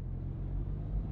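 Low, steady engine rumble from a LADA Niva 4x4 mod in Euro Truck Simulator 2, a brief idling drone heard alone at moderate level.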